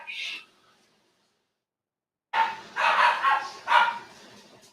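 A dog barks in a few close, loud bursts after a short yip and a pause, with voices mixed in.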